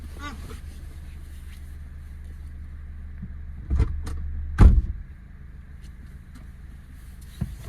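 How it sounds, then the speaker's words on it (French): The boot of a Citroën C5 Aircross Business is shut: a few soft clunks build to one firm thud, then faint handling noises, against a low steady hum. "j'ai mal fermé le coffre"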